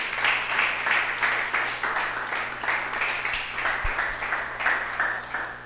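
A church congregation claps together in a rhythmic, pulsing applause, the beats surging in regular waves over a low steady hum, with no clear speech.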